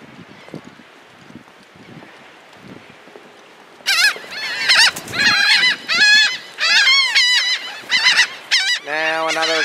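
Seagulls at the seaside give loud, repeated calls close by, starting after a few seconds of quiet wind and then following one another in quick succession.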